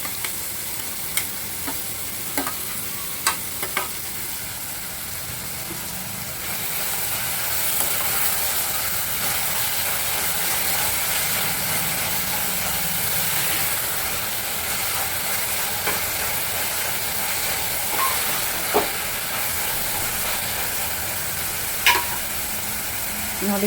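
Onion and tomato frying and sizzling in a pan for poha, a steady crackling hiss with occasional sharp pops and stirring clicks, close and continuous throughout.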